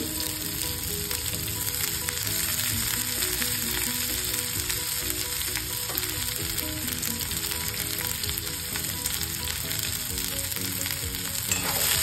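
Cabbage with curry leaves and turmeric fries in a pan with a dense, continuous crackling sizzle, heard close and steady without any talking.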